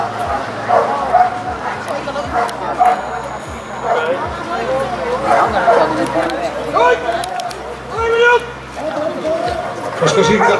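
Police dog barking, yipping and whimpering eagerly during a nighttime police operation, with busy, continuous dog noise throughout and people talking over it.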